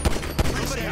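Gunfire in the video game Grand Theft Auto V comes as two sharp, loud shots about a third of a second apart amid a noisy firefight.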